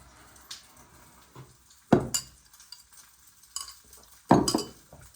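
Breakfast food frying in a pan, browning and crisping: a soft steady sizzle broken by several sharp scrapes and knocks as a spatula turns it, close and fairly quiet.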